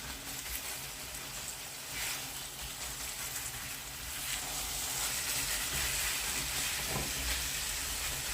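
Minced meat sizzles in a frying pan for a Ukrainian navy-style soup, a steady close hiss and crackle of frying that swells slightly louder partway through, with no talking.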